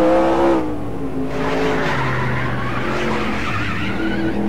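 Stock car in the NASCAR Racing 2003 sim, 1969 USAC season, spinning out with loud tire skidding and engine roar, a sustained screech and whine that shifts pitch as the car slides.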